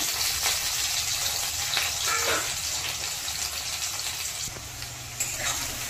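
Pumpkin and potato sizzle steadily in a frying pan, a continuous broadband hiss with faint scraping from stirring running throughout, close and moderately loud, with no talking.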